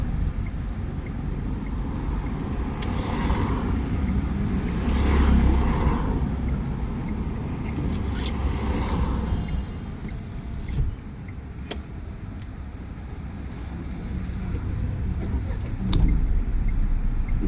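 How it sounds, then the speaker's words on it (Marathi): A car engine turns over and settles into a steady low idle rumble that continues throughout, with a brief shift near the middle and a small knock toward the end. "आता गाडी चालू झाली."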